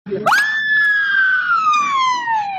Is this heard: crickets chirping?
no